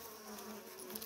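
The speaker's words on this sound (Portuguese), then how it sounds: "Belo enxame." A swarm of jandaíra stingless bees buzzes softly and continuously at close range, a faint, steady insect hum.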